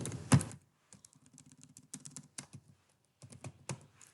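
Keys clatter on a computer keyboard while list items are typed for a web development lesson, coming in irregular close bursts of quick presses with short pauses and no talking.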